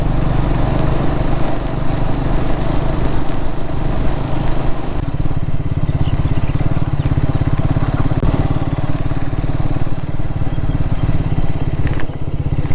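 A Speed 400 motorcycle riding off-road along a rough field track, its engine droning loud and close throughout with continuous rattling and clatter.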